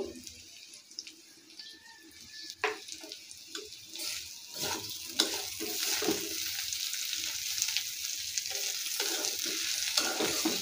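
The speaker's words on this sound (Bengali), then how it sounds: "ব্রাউন কালার হয়ে গেলে আমি এর মধ্যে ফুলকপি দিয়ে দিব।" Cauliflower pieces going into browned oil in a pan for a rui fish curry, a steady hiss and sizzle with clinks and stirring scrapes, growing denser and louder toward the end.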